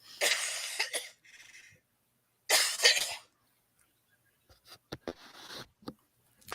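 Someone coughs in several bursts, a harsh cough, a pause, then another loud cough, followed by softer scattered throat noises and small clicks.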